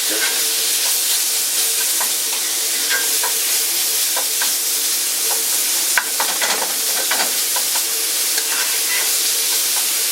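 Ground beef sizzles and spits steadily in a hot cast iron skillet, a bright continuous frying hiss broken by occasional scraping stirs and small pops, close and fairly loud with no voices.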